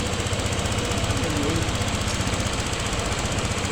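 A Honda Click 125 motorcycle engine idling after a throttle position sensor reset, a steady close rumble with even, rapid pulsing and no clear rise or fall, alone without talk.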